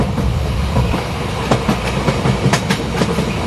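A train rolls along with a steady clickety-clack of wheels over rail joints, loud and near, the rhythmic knocks growing more regular as it gathers pace.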